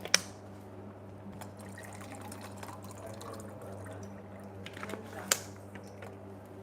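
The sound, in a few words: pouring water into a glass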